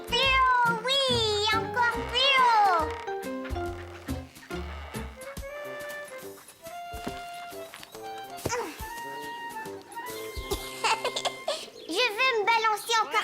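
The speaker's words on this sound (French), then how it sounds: "Caillou avait peur du chat en colère." In a French children's cartoon, an angry cat meows and yowls in rising, wavering cries, loud and close, mixed with cartoon music and a voice.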